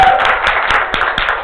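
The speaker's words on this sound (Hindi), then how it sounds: "अरे इतना अच्छा काम कर रहे, तालियां बजाओ" A group claps hands during an indoor workplace training session, a brief burst of sharp, uneven claps.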